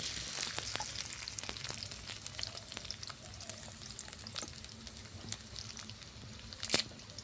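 Chopped onion sizzles in hot mustard oil in a wok on a clay stove, giving a steady close frying hiss with scattered pops and stirring clicks.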